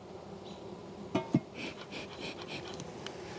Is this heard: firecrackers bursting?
no